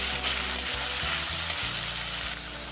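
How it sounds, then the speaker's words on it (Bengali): Onion and garlic fry in hot oil with dried chillies, bay leaf and cumin for a Bengali prawn malai curry, giving a steady, loud sizzle with stirring scrapes throughout and no talk. "পেঁয়াজ রসুনটা আমি ভালোভাবে একটু"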